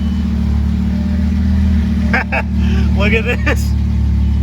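Lamborghini Gallardo LP560-4 engine idling with a loud, steady low drone after clutch, flywheel and throwout bearing repair, as people talk excitedly over it.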